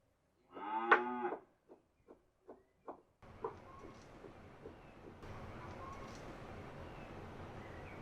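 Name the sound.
cow mooing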